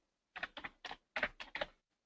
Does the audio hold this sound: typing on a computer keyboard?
yes